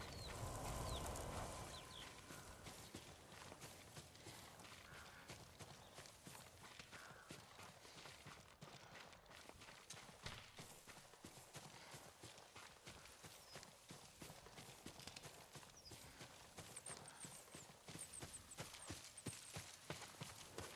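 Horse hooves clip-clop along a path in the video game Ghost of Tsushima, a quiet, steady walking rhythm that runs throughout under faint ambient outdoor sound.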